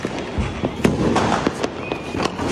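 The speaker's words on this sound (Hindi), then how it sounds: "तुम्हारा भाई चलाएगा फुलझड़ी।" A Diwali sparkler being lit outdoors, with crackling bursts and sharp pops from fireworks nearby, and voices faintly in the background.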